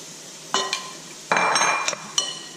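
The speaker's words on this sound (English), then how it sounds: "get our fork, spoon, give it a nice toss" Fork and spoon tossing a creamy bacon blue cheese salad in a bowl: a few separate clinks and scrapes of metal utensils against the dish, close up, in short bursts with pauses, no talk.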